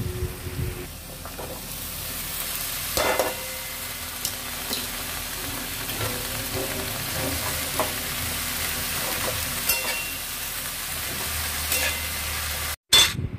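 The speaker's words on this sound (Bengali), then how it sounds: "মশলাটা কষা হয়ে যাওয়ার পর দিয়ে দেবো পুঁই শাক।" Malabar spinach and spice paste fry in a pan with a steady, close sizzle. Occasional clinks and scrapes of stirring break through the frying.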